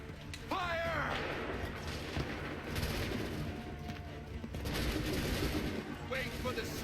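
Musket volleys in the video game Assassin's Creed 3, with booming, crackling gunfire bursts mixed with shouted battlefield commands and a busy background din.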